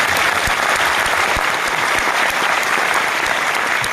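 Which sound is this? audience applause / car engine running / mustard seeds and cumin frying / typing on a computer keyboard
audience applause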